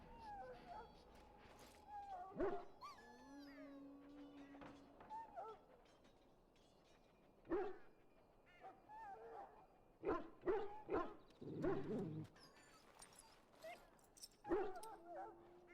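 Dog whines, whimpers and barks in the Dragon Age Origins video game, several short yelps and cries scattered over a music and ambience bed, with characters talking in between.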